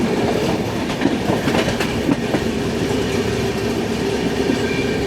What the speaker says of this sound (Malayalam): ഓപ്പോസിറ്റ് ലൈനിൽ വിവേക് എക്സ്പ്രസ് വരുന്നുണ്ട്.